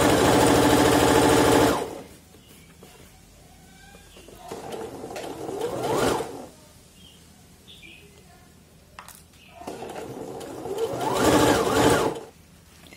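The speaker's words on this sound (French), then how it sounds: "Vous continuez jusqu'à finir votre couture." Domestic sewing machine stitching a skirt seam, running in loud sustained bursts at the start, around six seconds and again near eleven seconds, with quieter fabric handling between runs.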